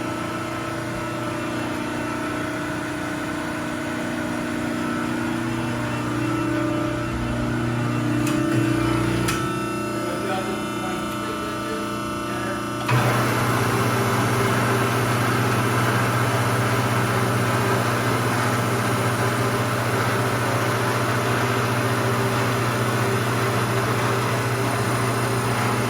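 A Cincinnati hydraulic shear's back gauge traveling in toward 10 inches, a steady mechanical motor hum over the running hydraulics, with a few clicks and a sudden louder, fuller drone partway through as the gauge drives.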